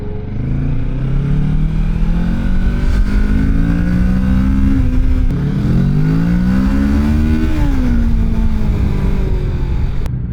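A Kawasaki Ninja 650 motorcycle accelerates hard close by, its engine note climbing through the gears in repeated rising sweeps with short drops at each shift, loud and steady with no talking.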